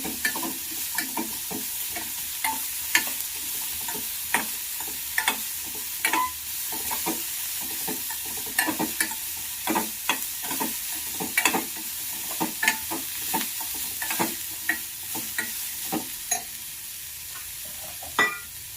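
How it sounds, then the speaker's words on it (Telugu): Green beans fry in a pan for a coconut beans fry, a steady sizzle running throughout while a spoon stirs them in repeated scraping strokes at an even, unhurried pace. "ఇలా వేసుకొని ఈ బీన్స్ని అంతా ఇలా కలయదిప్పుకోవాలి."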